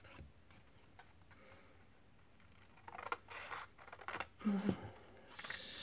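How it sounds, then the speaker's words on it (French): Scissors cutting paper mitten shapes for Christmas hanging decorations, soft crisp snips clustered near the end after a quiet start, with faint background noise. "on va déjà découper nos moufles"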